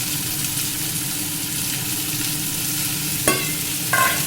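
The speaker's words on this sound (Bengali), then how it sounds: "পেঁয়াজটা একটু নাড়াচাড়া করে ক্যাপসিকাম দিয়ে দিলাম। ক্যাপসিকাম আর দুটো চেরা কাঁচা লঙ্কা।" Chopped onion, capsicum and slit green chillies sizzle steadily in a pan, a constant close frying hiss with stirring and a couple of sharp utensil clinks near the end.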